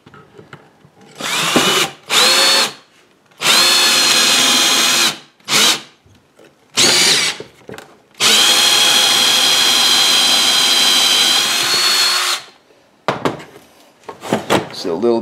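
A power drill in a drill vise spins a brass pen barrel while it is trimmed, giving loud whining bursts of a few seconds each, then one long steady run, separated by short pauses.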